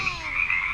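A frog croaking in a short, close, continuous call with a slightly rasping tone, heard alone.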